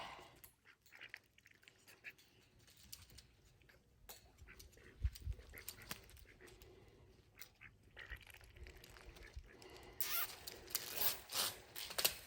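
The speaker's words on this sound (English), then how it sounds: "secure it with some zip ties" Plastic zip ties ratchet with faint zipping sounds as they are cinched around a fence panel at a T-post, quiet and intermittent, with ducks quacking softly in the background and a louder rasping pull near the end.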